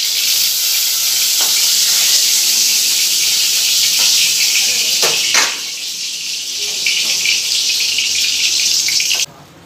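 Whole cumin seeds, a bay leaf and a dried red chilli crackle in hot oil, tempering a Bengali vegetarian potato and pointed gourd curry. A loud, steady sizzle is broken by a few sharp pops and dies down briefly near the end.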